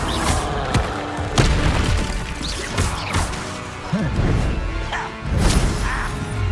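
Bombarda blasting spells go off during a Hogwarts Legacy duel, a run of loud smashing booms and crashes with whooshing bursts, one after another over several seconds amid busy game sound.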